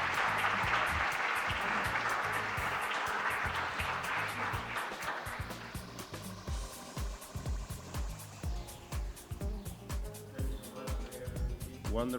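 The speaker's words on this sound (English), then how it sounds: "we ask you for a big round of applause to our speakers" Conference audience applauding panel speakers, a broad wash of clapping in the first half that fades into scattered claps, with other room sounds and music-like tones underneath.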